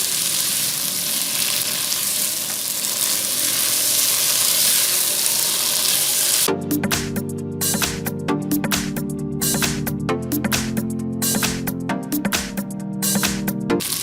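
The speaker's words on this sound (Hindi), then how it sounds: "मज़ीद 4 से 5 मिनट तक इसकी बुनाई करें।" Mutton cooking with yogurt in a pot, a steady hiss of frying that gives way to louder sizzling with rhythmic stirring or scraping and clattering bursts, close and continuous, no voices.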